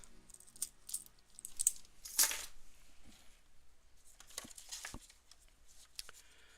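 Car keys jangle and clink in short, close metallic bursts amid soft rustling and handling noises, fairly quiet overall.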